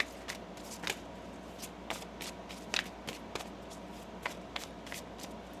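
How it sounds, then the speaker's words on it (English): Tarot cards being shuffled in quick, crisp riffles, a soft rapid flutter repeated in bursts, close and fairly quiet with no talking. "One more shuffle here."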